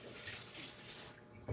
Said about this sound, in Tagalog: Next natin ilalagay tubig.